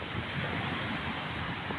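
Sea waves washing onto a calm shore in the rural Philippines: a steady, unbroken wash of surf noise with a breezy, wind-like hiss, even in level and without talk.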